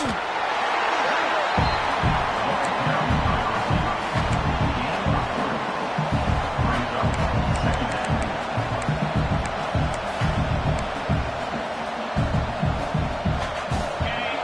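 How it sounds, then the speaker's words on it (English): Stadium crowd roars steadily during a college football game in NCAA 26, a dense, constant wall of cheering and noise with a commentator's voice talking over it. "This crowd ready to make its presence known."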